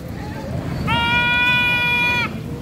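A single goat bleats at a busy livestock market selling cattle, carabao, goats and horses. The bleat is loud, steady and wavering, lasts about a second and a half, and rises over constant crowd murmur.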